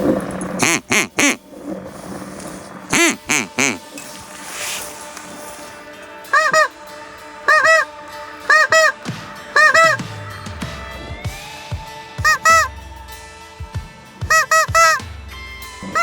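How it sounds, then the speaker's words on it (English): Geese honk loudly in short repeated pairs and clusters by the Yukon River, some squeaky calls mixed in, with quiet gaps between bursts. "we tried to sing to those geese, but they know where they're going, and it's somewhere else"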